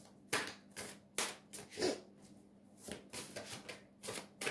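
Tarot cards being handled and shuffled up close, a quick run of crisp papery flicks and riffles in uneven bursts, with no talking.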